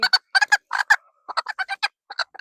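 Farm chickens, a cockerel among hens, cluck and squawk in a string of close, loud calls, bursting in quick clusters with brief gaps between them and no talking.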